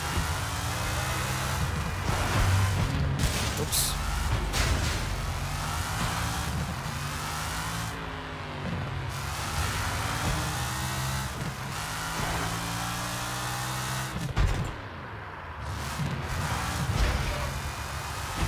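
A car engine revving in the video game Sleeping Dogs, with rising and falling tones as the throttle is repeatedly cut and reapplied at high speed, loud and continuous.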